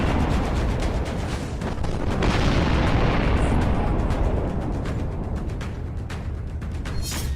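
A loud, rumbling Russian missile explosion over Kyiv roars and slowly decays, with scattered crackles and debris-like noise continuing afterward, heard from a distance.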